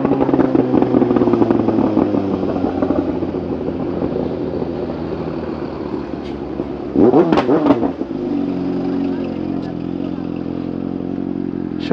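A remapped Honda Hornet 600 motorcycle engine drones steadily at close range, with a sharp rev burst and crackle partway through before it settles back to a rumbling idle.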